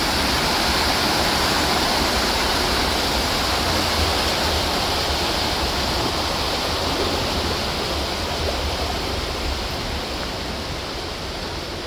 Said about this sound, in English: Oh, there's a waterfall coming up.